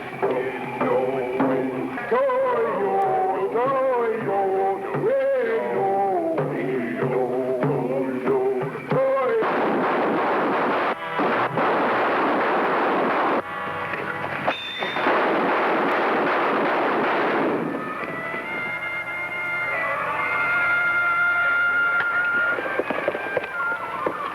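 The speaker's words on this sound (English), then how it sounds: "Get ready to fire a few shots." Gunshots fired on a jungle safari to scare animals away: several loud, booming blasts crackle through a busy mix of music and noise, echoing like distant artillery.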